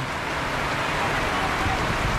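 Steady rain falls around a sheltered resting spot near water at a summer swimming area in Masinloc, Zambales, a constant dense hiss with no voices.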